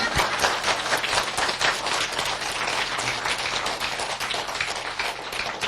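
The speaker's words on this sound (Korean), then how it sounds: "또 박수 쳐." Dense, steady clapping from an audience at a Korean folk storytelling talk show, many hands beating quickly and continuously at close range with no voices over it.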